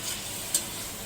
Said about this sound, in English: this is the right time we are going to add the sliced tomatoes and make a good masala with this